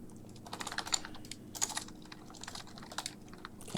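Typing on a computer keyboard during a website review, with quick irregular bursts of key clicks close by, steady and fairly soft, with no talking.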